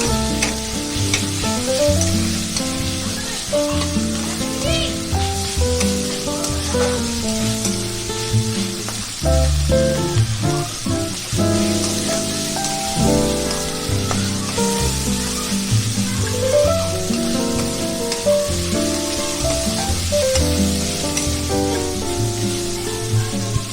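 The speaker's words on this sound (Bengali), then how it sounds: "এবার ভালো করে চিকেনটা আমি এই তেলের মধ্যে এই মশলাগুলো দিয়ে ভাজা করে নেব।" Chicken fries in oil with garlic, ginger paste and spices, a loud continuous sizzle and crackle that lasts throughout, with stirring sounds and no talking.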